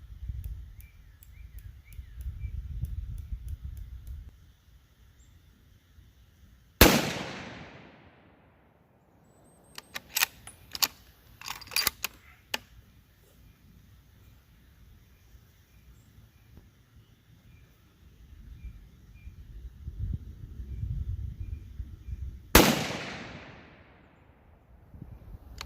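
Two sharp, loud rifle shots from a custom Savage rifle at a close-range target, spaced about sixteen seconds apart, each with a short fading echo. Soft outdoor ambience and a few faint clicks fill the gaps.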